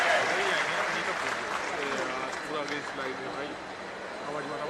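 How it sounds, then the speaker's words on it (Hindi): Loud, sustained applause from a crowd at a public event in Raisen, Madhya Pradesh, for Defence Minister Rajnath Singh, a dense steady roar of many hands continuing throughout with voices mixed in. "जोरदार तालियां माननीय रक्षा मंत्री श्री राजनाथ सिंह जी के लिए"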